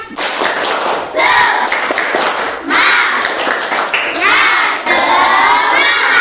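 Standing schoolchildren in a classroom do a rhythmic clap-and-cheer ice-breaker, with loud bursts of unison clapping and shouted voices coming in several waves, each separated by short pauses.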